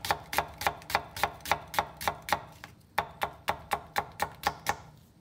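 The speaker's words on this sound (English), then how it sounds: "And then we can just start cutting into pretty thin strips." A knife cuts food into thin strips on a board, about fourteen crisp, evenly spaced chops in a quick steady rhythm, close and fairly quiet.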